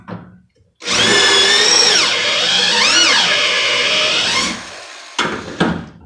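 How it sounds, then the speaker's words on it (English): A power drill bites into a rivet head on the car door of a Lil Red Express truck during restoration, a loud, close, whining grind with pitch dips as the load changes, then short bursts after it stops. "You want to make sure to drill just the head off and not actually drill into the door"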